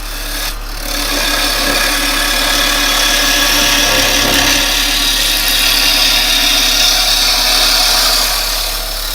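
Roughing cuts on a yew blank on a wood lathe, with a steady loud rasping scrape of the tool against the spinning wood, continuous and close, without speech.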